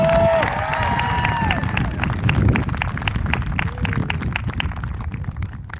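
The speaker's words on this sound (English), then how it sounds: "Can we give one more round of applause to our amazing MHS band?" Graduation audience at Millennium High School applauding the school band: a steady wash of clapping and cheering from a large crowd, loud and sustained, with a few whistles early on.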